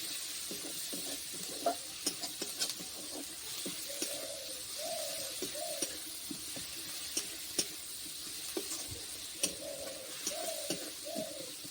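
Chopped onion frying in a pan with a continuous hiss and scattered spatula clicks, while pigeons coo repeatedly in the background.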